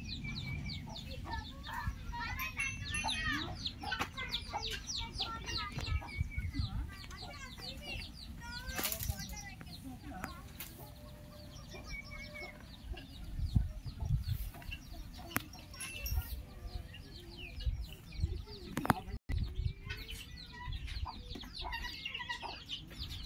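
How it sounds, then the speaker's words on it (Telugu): Farm chickens cluck and a small chick peeps while wings flap now and then, a busy, faint scene of scattered calls spread across the yard with some distant voices in the background. "చిన్న కోడిపిల్ల పోతుంది."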